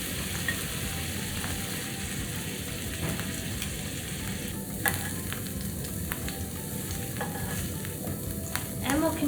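Beef pieces sizzle in a pan with a constant close crackle and scattered sharp pops, and no voices over it.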